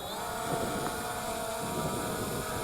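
A ZLRC Beast CSJ-X7 (SG906) brushless GPS camera drone lifting off, giving a steady, close, whining buzz of spinning propellers mixed with wind noise, with no speech.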